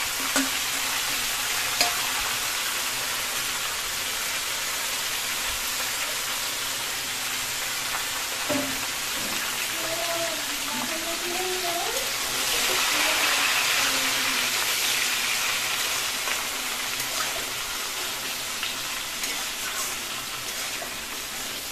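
Young jackfruit fries in hot oil with a steady, even sizzle and occasional soft crackles.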